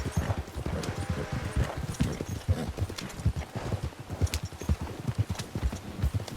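Horse hooves clip-clop steadily in Red Dead Redemption 2 during a winter endurance race, with a fast, even galloping rhythm of close, thudding beats that continues throughout.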